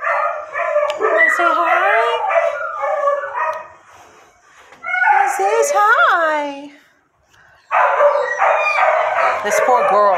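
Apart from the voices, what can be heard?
dogs barking and howling in a kennel room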